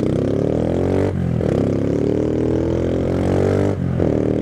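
A struggling motorcycle engine droning hard at steady high revs, close and loud, with two brief dips in pitch as if shifting.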